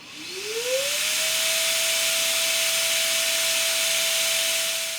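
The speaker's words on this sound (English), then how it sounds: "that is this loud and large CPAP parts cooling fan" Loud, large CPAP parts cooling fan on an FLSUN T1 3D printer spinning up with a rising whine, then holding a steady, intense high-pitched whir with strong airy rush.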